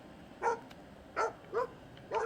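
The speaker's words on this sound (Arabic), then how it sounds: "صوت ديال الكلاب" Video game dogs bark four times at a steady pace, moderately loud, over a low constant background hum, in a Moroccan horror game.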